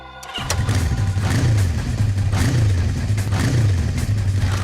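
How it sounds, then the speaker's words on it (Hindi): A recorded motorcycle engine played back for a witness in a crime-drama scene, a steady low throbbing idle with slight revving pulses, loud and continuous after a brief silent start, with no talking over it. "हम तुम्हें कुछ बाइक्स की आवाजें सुनाएंगे।"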